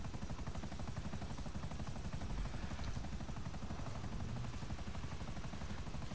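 Helicopter in the game GTA V Online, a steady rotor drone with low thumping filling the whole stretch, loud and continuous with no talk over it.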